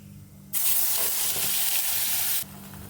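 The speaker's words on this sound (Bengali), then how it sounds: "তেলটা গরম হয়ে গেছে এবার দিয়ে দিচ্ছি ফোড়নটা ভাজা হয়ে গেছে ভালো করে এবার এই যে বেটে রেখেছিলাম এটা দিয়ে দিচ্ছি" Ground banana stem paste dropped into hot oil after tempering, bursting into a loud, bright hiss that holds steadily for about two seconds before cutting off, close up over a quiet background.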